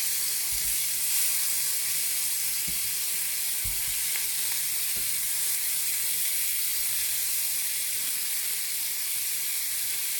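Onion and tomato sautéing in a pan, a steady broad sizzle and hiss running throughout with a few soft knocks from stirring, close and even in level, no voices.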